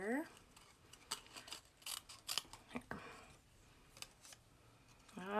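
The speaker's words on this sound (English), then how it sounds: "we are gonna take this and just cut around our sentiment" Scissors snipping around a stamped card sentiment on a craft table, a series of short crisp cuts spaced irregularly, with a voice talking at the start and end.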